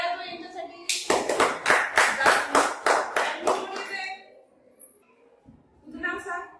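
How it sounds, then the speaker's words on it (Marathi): Schoolchildren in a classroom applaud their classmates with a burst of brisk, even hand claps lasting about three seconds before it fades. A voice speaks briefly afterwards. "टाळ्या वाजवा यांच्यासाठी"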